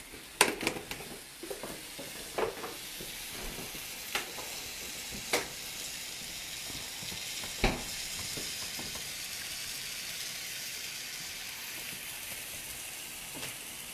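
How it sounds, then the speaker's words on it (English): Spinach greens wilt in a hot pan, giving a soft continuous sizzle with a few sharp crackles and pops spread through, fairly quiet and close, with no one talking. "I just like to wilt my greens, not cook them too much."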